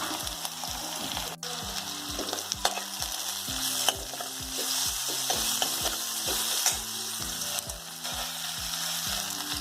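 Onion sautéing with ginger and cumin in a pan, a continuous close sizzle with occasional stirring clicks, under a steady rhythmic mechanical whirring pattern in the background.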